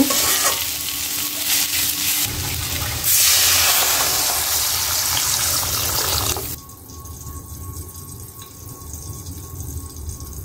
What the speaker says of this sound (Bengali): এই যে বেগুন ভাজিটা নামিয়ে নিচ্ছি, হয়ে গেছে গা। একটু জল দিয়ে দিব।